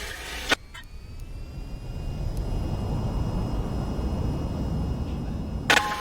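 A jet in the VTOL VR flight game rolls down a runway at full throttle for takeoff, a steady broadband engine roar that holds level throughout, with brief clicks near the start and end.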